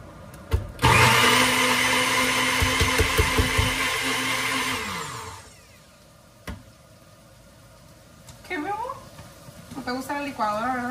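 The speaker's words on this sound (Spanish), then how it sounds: "Te gusta la licuadora" Kitchen blender mixing a seasoned broccoli mixture with salt, pepper and Knorr Suiza, a loud steady whir lasting about five seconds before cutting off, followed by kitchen clatter and talk.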